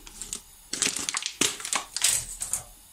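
Crisp crumbly crushing and cutting sounds in short bursts, close up, with quiet pauses between, like a knife working through soft cheese; the cheese is crumbly curd (lor) cheese.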